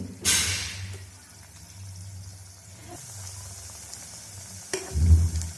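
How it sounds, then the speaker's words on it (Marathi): Mini balushahi sweets frying in oil over low heat, a steady soft sizzle and bubbling with a few louder splashes as pieces drop in, close and without talk. "आता हे तळून घेऊया"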